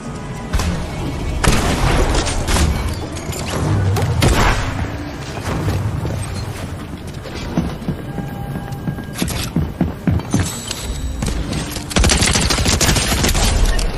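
Dense automatic gunfire and booming shots in the video game Fortnite, rapid bursts and thuds running almost continuously and loud throughout, with little pause between volleys.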